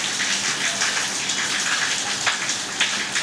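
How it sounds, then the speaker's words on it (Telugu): Heavy rain pours down steadily, a dense loud hiss with heavier drops splattering now and then, no voices. "చాలా పెద్ద వాన వచ్చింది"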